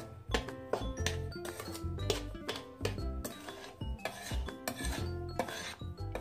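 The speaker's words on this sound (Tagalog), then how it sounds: "Haluin lamang hanggang sa magpantay itong ating mga tuyong sangkap or dry ingredients" Dry ingredients for puto Biñan are stirred in a bowl, making rhythmic scraping and clinking of the utensil against the bowl, close and steady, with no voice.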